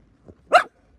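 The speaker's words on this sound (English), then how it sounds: "Don't you growl at me." A dog in a garden gives one short, sharp bark, close and clear, after a faint low grumble, then silence.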